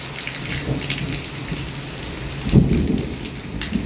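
Heavy rain pours steadily with a low rumble of thunder swelling midway, a continuous dense hiss with no voices.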